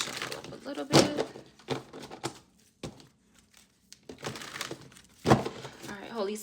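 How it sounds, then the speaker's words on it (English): A deck of tarot cards is shuffled by hand close to the microphone, a series of irregular crisp riffling and slapping bursts separated by short pauses. "Shuffle up a little bit."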